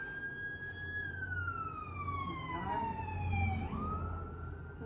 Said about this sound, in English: my sirens are going off as well